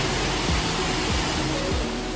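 Grotto Falls waterfall rushes in a steady, dense roar, close and loud, with no voices heard.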